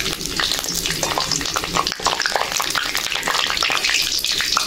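Dry red chilies frying in hot oil for khichdi in a village kitchen, a steady, close, loud sizzle with crackling bursts and occasional stirring, no talking.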